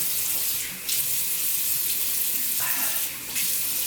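Tap water runs steadily into a sink as a face is wetted before shaving, a close, continuous rush with two brief splashy bursts where hands dip into the stream.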